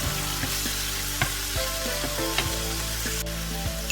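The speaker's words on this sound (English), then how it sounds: "saute your onion. Add the artichoke, mix it well, cook it for a few minutes." Onion and artichoke sauté in coconut oil in a pan, giving a steady close sizzle broken by a few scraping stirs, with no voices.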